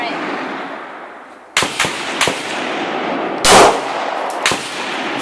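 Pistol shots from a CZ 82 and a Glock 19 fired at an outdoor target, several loud sharp cracks spaced irregularly over steady background noise, one heavier report in the middle.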